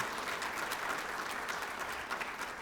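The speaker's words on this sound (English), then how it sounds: "let's give Kevin Ozee a round of applause" An audience at a National Signing Day event applauds steadily, a faint, continuous crowd clapping without speech.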